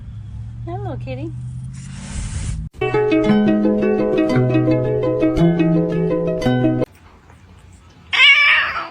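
A cat gives a wavering meow near the start, then musical backing takes over, with people talking and a brief scratchy burst at the end.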